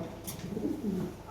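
Lahore pigeons, a pair kept for sale, give soft, low cooing that rises briefly and fades, faint and fairly close with no voices over it.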